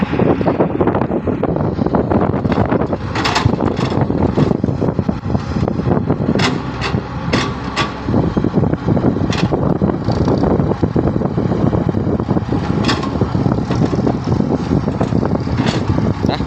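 Strong wind roars steadily into the microphone at an outdoor earthworks site with an excavator and dump trucks, a loud, continuous buffeting with gusty bursts that lasts throughout.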